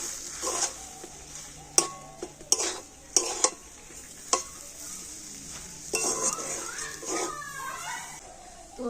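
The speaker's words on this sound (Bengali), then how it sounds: "এবারে সমস্ত কিছু একটু ভালো করে মিশিয়ে নেব" Ground peanuts are stirred into a roll filling in a bowl, giving soft scraping and mixing sounds. Sharp utensil clinks knock against the dish at irregular intervals, close by with no talk.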